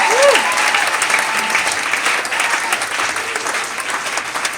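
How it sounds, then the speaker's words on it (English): Theatre audience applauding after a closing speech at a Broadway show, loud dense clapping with cheers and whistles throughout. "So huge round of applause."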